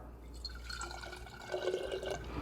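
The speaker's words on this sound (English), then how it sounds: "So we're going to squeeze the lemons and we're going to put those into a jar." Fresh-squeezed lemon juice trickles and drips into a jar for an olive oil salad dressing, a faint, brief liquid pour close by.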